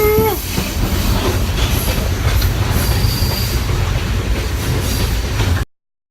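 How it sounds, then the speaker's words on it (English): A train ride on the Hiwassee rail loop near Etowah, Tennessee, heard as a loud, steady rumble of rolling railcars with a brief squeal of wheels at the start, ending abruptly. "It's a train ride."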